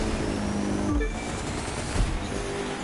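A racing car fires its nitro boost in the driving video game The Crew 2, a steady engine roar with a sharp whooshing burst near the one-second mark and another surge shortly after.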